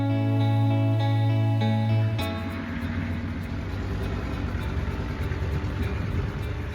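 A roughly 35-year-old farm tractor engine running on a Texas ranch in cold weather, a steady low idle that shifts pitch around two seconds in, then chugs on evenly without talk.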